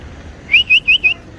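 Four short, bright whistle notes in quick succession, evenly spaced, sharp and clear against a faint background hum.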